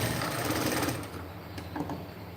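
A sewing machine stitches around a peplum top with a continuous fast, buzzing mechanical rattle that is loud and close, then eases slightly and carries on more softly with a few light clicks.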